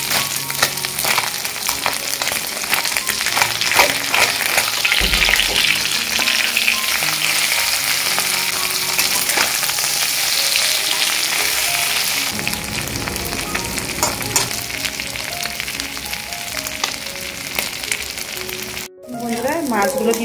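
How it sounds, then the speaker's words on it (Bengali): Small fish fry in oil in a pan for a sour small-fish dish, giving a steady, dense sizzle that carries on for about twenty seconds with faint voices in the background. "মাছগুলো কিন্তু একদম ভাজা হয়ে গেছে"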